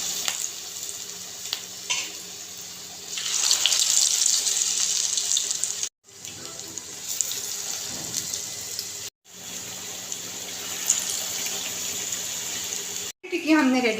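Potato tikki pakora fry in hot oil, a bright steady sizzling hiss that swells as pieces go in, broken by short cuts, with a faint hum beneath and no clear talk.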